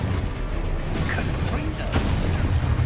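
A Confringo fire spell explodes in Hogwarts Legacy, with booming bursts and pops over a dense, continuous game soundscape.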